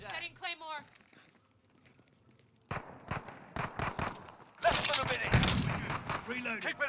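Gunfire in the video game Call of Duty: Modern Warfare (2019): scattered sharp shots and bursts with footstep-like clatter, a denser volley near the end, and a player talking over parts of it.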